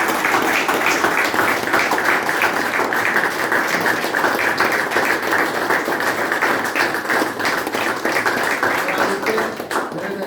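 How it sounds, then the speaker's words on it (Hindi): Steady audience clapping fills a recovery meeting celebrating a year clean and sober, a dense, even round of applause from a group in a room that holds at a constant level throughout. "तो एक बार सभी जोरदार तालियां बजाएंगे"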